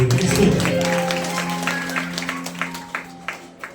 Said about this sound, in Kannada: ಚಪ್ಪಾಳೆ ತಟ್ಟಿ.